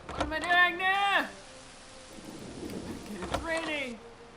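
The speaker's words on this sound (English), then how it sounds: "It's raining!" Steady rain hisses in the Agatha Christie video game And Then There Were None, a soft, even wash of noise. A voice speaks over it at the start and near the end.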